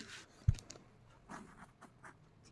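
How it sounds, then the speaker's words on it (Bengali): Pen scratching across a notebook page, soft and close, with a sharper tap near the start followed by faint strokes that come in short bursts. "আমি যদি খাতায় লিখি"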